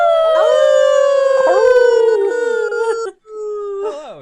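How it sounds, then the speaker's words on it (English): Werewolves howl in long, wavering, overlapping cries that bend downward in pitch, loud and near. After a brief break near the end, a single howl rises again and fades. "with the fading howls of the werewolves"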